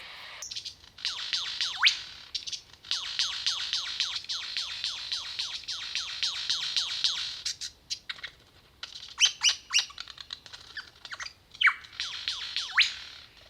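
A superb lyrebird calls in a forest, pouring out rapid bursts of high, sweeping, mechanical-sounding chirps and clicks, clear and fairly close, with short pauses between phrases.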